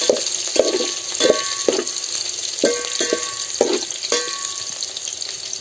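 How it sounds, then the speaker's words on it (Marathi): Garlic and curry leaves sautéing in hot oil on a wood-fired stove, a continuous crackling sizzle punctuated by repeated short stirring scrapes at an even pace. "त्यानंतर टाकूची आपल्या लसूण, आता या व्यवस्थित आपण थोडंसं परतून घ्यायचं तेलात"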